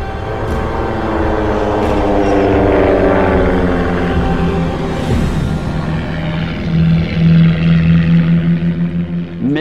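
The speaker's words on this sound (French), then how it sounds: "Les Gotha étaient une famille de bombardiers biplans allemands qui furent les plus gros avions" Engines of a World War I German Gotha biplane bomber produce a loud, sustained propeller drone that wavers in pitch and swells toward the end.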